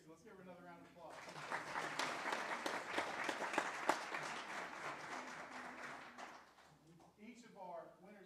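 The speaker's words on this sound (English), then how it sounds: "Let's give her another round of applause." An audience at a school board of education meeting claps in a sustained round of applause lasting several seconds, fairly faint in a room, with a speaker's voice briefly before and after.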